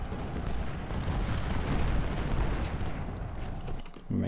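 Artillery cannons fire in the Civil War strategy game Ultimate General: Civil War, a dense, rumbling roar of booming shots that runs without a break for a few seconds, loud and close.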